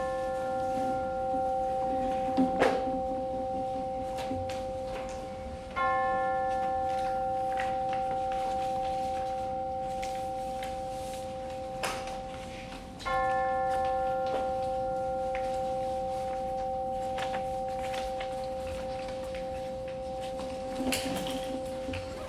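Chimes ring out at a worship service with clear sustained tones, struck again a few times so the bright notes overlap and slowly fade.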